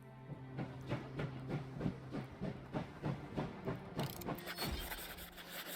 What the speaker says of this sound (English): suddenly a loud metallic clang echoes through the air and the train begins to slow down